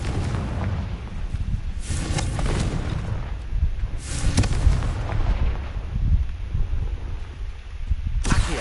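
A Confringo blasting spell in a Harry Potter video game sets off a string of heavy, rumbling explosions, loud and close, with booms rolling into one another and swelling again over several seconds.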